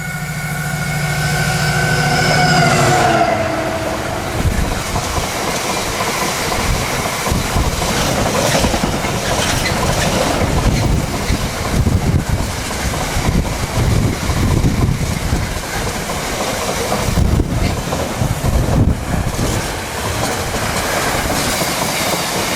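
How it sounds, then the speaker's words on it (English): Class 70 locomotive 70002 hauls an intermodal freight train from Southampton to Trafford Park, a loud rising horn-like tone at first, then a sustained roaring rumble of passing wagons with wind buffeting the microphone. "this would be the last year of Class 70s working these intermodal trains"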